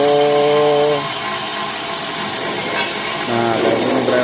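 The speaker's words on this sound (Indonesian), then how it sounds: "Di tuner kayak gitu ya, menggunakan mata bor tuner." A power drill fitted with a tuner bit grinds into the neck of a Yamaha RX-King motorcycle exhaust pipe, a loud steady whine that drops in pitch partway through, then rises again as the bit bites.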